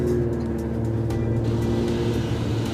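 A 2013 Nissan Pathfinder AWD climbing a steep off-road hill, its engine giving a steady, loud, low hum from inside the cabin with no break.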